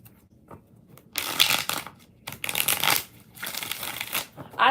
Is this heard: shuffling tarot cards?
yes